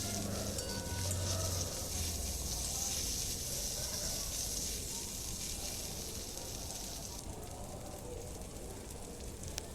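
Tomatoes frying in a pan for masoor lentil dal, a soft, steady sizzle that stays faint and even throughout with no voices.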